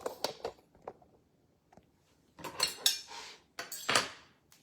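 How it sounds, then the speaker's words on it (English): Knife scraping and clinking against a plate while cooked steak is cut for a home steak dinner, a few short close clatters separated by quiet pauses. "let me cut my meat"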